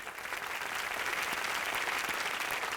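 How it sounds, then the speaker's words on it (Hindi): Studio audience applauding on a Hindi TV game show after a contestant's shooting attempt, a dense, steady wash of clapping hands that holds evenly throughout. "तालियां इनके लिए"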